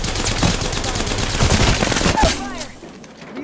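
Rapid bursts of video game gunfire crackle through the first half, dense and loud, with a voice shouting commands over the shooting before it thins out into quieter sounds.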